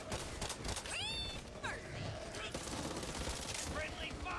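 Gunfire in the video game Back 4 Blood, rapid bursts of shots mixed with game effects and whooshing tones, fairly faint in a busy, continuous soundscape.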